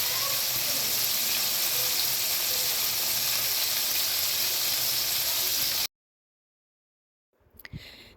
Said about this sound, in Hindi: उसको मैं फ्राई करूँगी फुल हीटेड ऑयल में